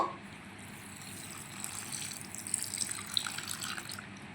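Milk poured into a bowl, a soft, steady liquid trickle that grows slightly louder and splashier as it goes, close and quiet, with no talking.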